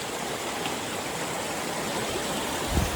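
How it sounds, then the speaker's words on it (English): A waterfall beside a hiking trail pours with a steady, dense rushing roar, constant and fairly close, with a faint thud near the end and no voices. "Nice by that waterfall too"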